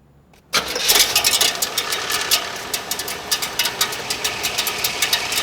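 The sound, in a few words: car engine rattling from loose metal shipping strap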